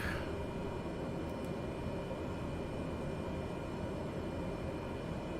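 A Cessna Caravan turboprop in Flight Simulator 2020 drones steadily during a throttle check while taxiing at Wellington. The engine holds an even, continuous hum throughout, with no speech.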